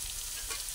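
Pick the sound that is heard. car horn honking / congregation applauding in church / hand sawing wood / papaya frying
papaya frying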